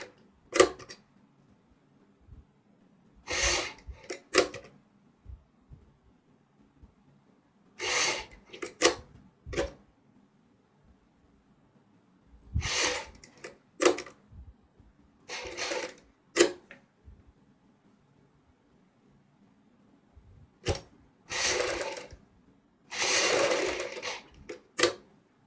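A sewing machine stitches lace trim onto a blouse in short whirring bursts separated by silences, repeating several times, close and alone with no talk.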